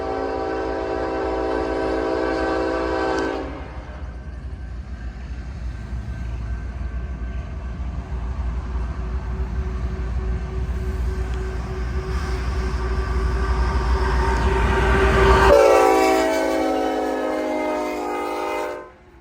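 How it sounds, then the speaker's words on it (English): A passing train sounds a K5HLA horn in long, loud chords over a heavy, constant rumble of rolling cars. The horn cuts off briefly and then blasts again near the end. "I realized what the horn was. It wasn't a K5 LLA, it was a K5 HLA."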